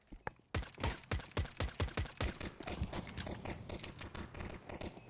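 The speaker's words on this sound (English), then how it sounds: "Gunfire going back and forth here." Rapid gunfire trades back and forth in a Counter-Strike match, a dense run of sharp, regularly spaced shots that blur into quicker overlapping bursts, fairly loud and continuous.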